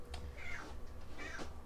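A cat meows in a kitchen while sweetened condensed milk is being prepared, two short rising cries close by over a steady low background hum.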